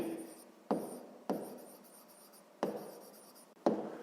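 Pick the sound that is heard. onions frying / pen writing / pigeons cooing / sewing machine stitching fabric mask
pen writing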